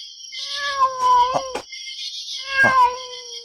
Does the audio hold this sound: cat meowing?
yes